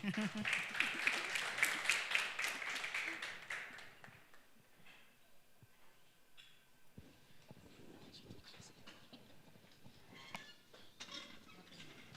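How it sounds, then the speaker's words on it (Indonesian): Church congregation applauding a pastor at a Christian conference session in East Java, a dense burst of clapping for about four seconds that fades into quieter room murmur and scattered sounds. "Silakan tepuk tangan."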